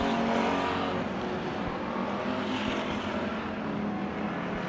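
Race cars roaring around the track during a heat race at Bakersfield Speedway, a loud continuous dense engine drone that swells and fades slightly as the pack passes.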